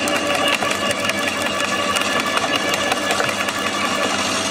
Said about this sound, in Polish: Jak go włożę, ta maszyna sama go wciąga.